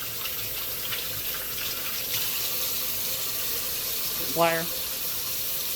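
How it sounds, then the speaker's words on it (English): Tap water runs steadily into a sink as hands are washed during prime rib preparation, a constant near hiss with one brief spoken word over it. "You're washing your hands."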